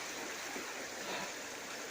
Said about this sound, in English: Oh, it's hard going walking this stream, I tell you.